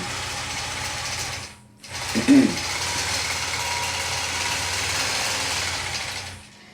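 A longarm quilting machine sewing raw edge appliqué, its steady mechanical ratcheting hum running close and continuous, pausing briefly before a short burst of quick tie-off stitches and resuming its even whir.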